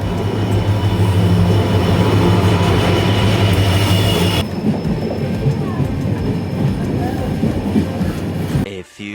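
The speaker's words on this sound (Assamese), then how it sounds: "এতিয়া এখন ট্ৰেইন গ'ল" A train passes loudly on railway tracks close by, with a heavy rolling roar and clatter for the first half before dropping to a lower rumble.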